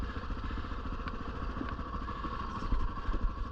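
A Honda XR 650 R racing motorcycle's engine runs steadily and close up with an uneven, clattering low rumble while being ridden off-road through woods, with a few heavier thumps near the end.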